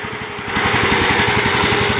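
A homemade mini tractor with a ZID 4.5 engine runs close by, its single-cylinder chug thumping in a fast, even rhythm under a steady mechanical drone, with no talking.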